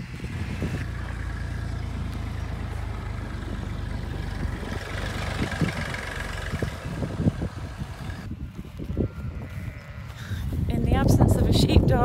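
Sheep and lambs bleat repeatedly while being gathered in a farm pen for vaccination and tail clipping before shearing, with a steady background hum throughout and a louder rush of noise near the end.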